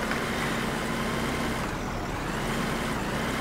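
A Fendt transport tractor in Farming Simulator 2009 produces a loud, constant engine roar with dense broadband noise that holds steady throughout, briefly dipping near the middle before resuming at full level.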